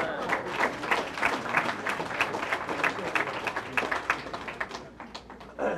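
Applause at a watershed science and leadership awards ceremony in Newark, steady dense clapping from an indoor audience lasting several seconds before tapering near the end.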